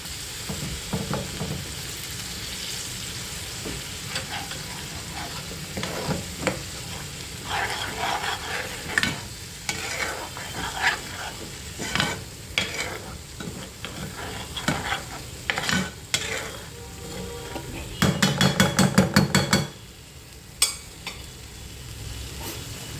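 Onion-coconut paste sizzles and fries in a pan for egg curry, with steady stirring scrapes throughout and a louder burst of sizzling near the end; close and continuous, no talking.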